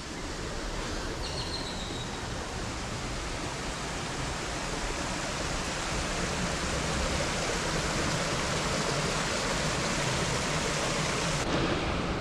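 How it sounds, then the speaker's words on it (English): Constant rushing water, a broad steady roar like a stream tumbling over rocks nearby, with no voices. "So you can see the water is running from here"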